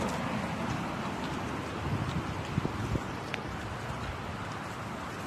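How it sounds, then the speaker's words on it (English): Strong wind blows outdoors in a steady, loud rush that buffets the microphone, with a few brief knocks partway through and no voices. "bro, it's crazy windy."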